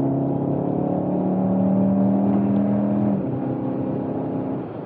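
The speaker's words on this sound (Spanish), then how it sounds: "Madre mía, cómo tira este coche." A 2023 Volkswagen Tiguan R SUV with all-wheel drive and a seven-speed dual-clutch gearbox accelerates hard in Sport mode, its engine drone rising steadily, then dropping at a gearshift before pulling on, heard from inside the cabin.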